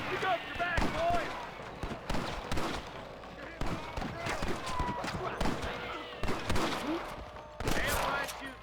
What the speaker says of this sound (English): Damn right shooting, boys.